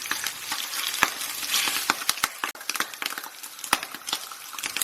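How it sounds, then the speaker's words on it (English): Big chunky bacon pieces fry in a pan for a broccoli and bacon stir-fry, giving a steady, close sizzle with sharp crackles and pops and occasional stirring clinks. "we're going to fry our bacon in batches till it's nice and crispy."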